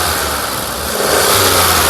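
A 2010/11 Volkswagen Polo Highline engine runs loudly and steadily up close, rising into a rev before settling back toward idle.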